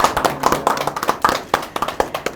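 Applause for a market merchants' association at a gathering with small business owners, a brief burst of close, crisp hand claps from a small group, uneven and loud.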